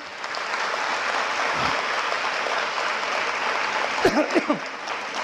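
Crowd of students and parents at a Marathi career guidance motivational event claps steadily, a dense even wash of applause with a few brief voices and shouts rising near the end.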